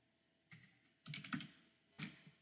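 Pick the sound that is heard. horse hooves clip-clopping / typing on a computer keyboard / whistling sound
typing on a computer keyboard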